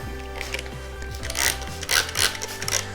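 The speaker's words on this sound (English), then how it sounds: "So I will just spray the whole pot, the plants, everything." A spray bottle of 3% hydrogen peroxide misting a pot of Stanhopea orchid seedlings to treat mold gives a few short, hissing bursts over a steady mechanical hum.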